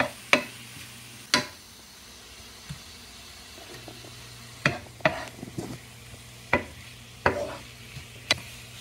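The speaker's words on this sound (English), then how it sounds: "Just want to saute all this in here," Small shrimp sautéing in a pan with a light sizzle, broken by sharp clacks and scrapes of a utensil stirring against the pan at irregular intervals, close and fairly quiet.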